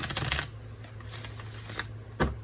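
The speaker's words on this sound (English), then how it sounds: "look at the shuffle of this deck." A deck of black and gold mass-market playing cards is shuffled up close, with a quick riffling flutter at the start, quieter card rustles through the middle and a final soft snap.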